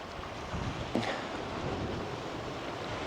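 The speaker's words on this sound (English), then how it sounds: "You might be able to hear the wind now" Steady wind buffets the microphone on the Bristol Channel shore during a spring fishing trip, a broad continuous rush with a brief gusty thump near the start and faint water movement beneath.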